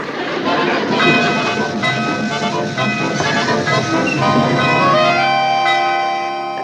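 A train rumbles loudly with rising metallic squeals and screeches as its wheels grind, steadily slowing, the noise continuous throughout.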